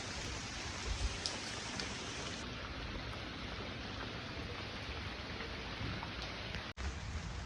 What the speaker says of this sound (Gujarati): વરસાદ તો જે આમના ને એવો ચાલુ જ છે